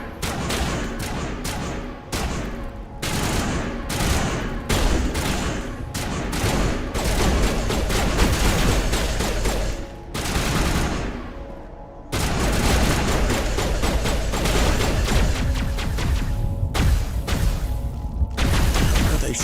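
Rapid bursts of gunfire from a Mass Effect firefight, dense overlapping shots running almost continuously with brief lulls, loud and close, with faint voices now and then.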